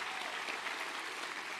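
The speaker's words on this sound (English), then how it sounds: "Let's clap for those people." An audience at a motivational business talk applauds, a dense, steady wash of clapping throughout the short moment.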